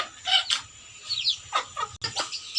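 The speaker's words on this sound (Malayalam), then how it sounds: "ഇതാണ് കോഴിക്കുഞ്ഞുങ്ങൾ" Young chicks peep in quick, bright bursts at close range, a scattered series of high chirps with a few soft clucks from the flock in the background.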